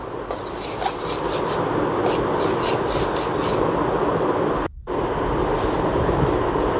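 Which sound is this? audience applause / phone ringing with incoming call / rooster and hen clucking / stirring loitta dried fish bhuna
stirring loitta dried fish bhuna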